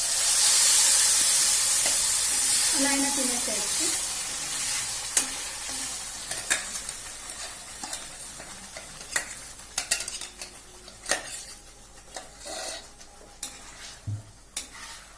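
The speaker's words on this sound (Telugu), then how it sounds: "ఇప్పుడు మనం పోపు వేసేసుకుందాము" Tempering (popu) sizzling and frying in a pan for tomato mint chutney, with a steady loud hiss at first that fades into scattered clinks of a stirring spoon against the vessel; brief talk near the end.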